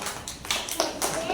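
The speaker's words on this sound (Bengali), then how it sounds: "হাততালি কই দে না তোর" Pre-primary schoolchildren clap their hands at a rhymes and songs assessment, a few quick uneven bursts of claps close by, mixed with talk.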